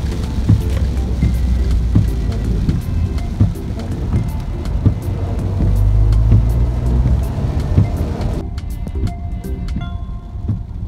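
Car driving along a bumpy dirt road on the way to a durian farm in Malaysia, a steady low rumble with frequent knocks and jolts from the uneven surface, heard from inside the vehicle, with no talking.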